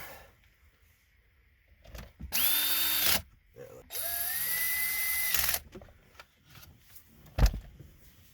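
A power drill set to low torque drives screws during a Ram 1500 switch install, whirring in two bursts, rising in pitch as it spins up and stopping abruptly, with quiet clicks and handling noise between.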